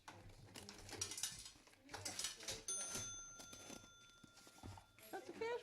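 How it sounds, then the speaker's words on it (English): A toy cash register mechanism is worked by hand, giving a run of quiet clicks, ratcheting and rattling bursts with a brief ring, close but faint, with some light handling noise and no talking. "Oh, this cash register."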